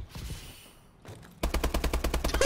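Rapid automatic gunfire from Call of Duty Advanced Warfare in a 2v2 Search and Destroy match, loud and close, firing in a fast steady burst after a quieter stretch of softer shots and game noise.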